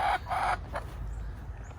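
Rhode Island Red chicken in a backyard flock, with several short, loud clucking calls close by at the start, then quieter scattered clucks over low background noise.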